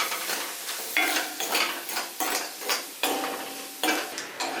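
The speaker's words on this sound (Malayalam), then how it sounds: "ഈ കടലപ്പരിപ്പ് കൊണ്ടുവന്ന് ഇത് ഈ മീൻ മൂപ്പിക്കുന്ന സമയത്ത് നന്നായിട്ട് ഇളക്കിയാലും ഒരു കുഴപ്പമില്ല" Chana dal roasting with anchovies in a pan, stirred with a utensil: a steady run of rhythmic scraping strokes, roughly one every second, over a continuous close sizzle, with no talking.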